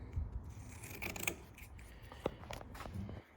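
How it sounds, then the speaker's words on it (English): Quiet snipping and rasping of scissors cutting material, a few crisp slices with faint rubbing handling noises in between, close up. "I'll do a little slice there. I've had these scissors for years."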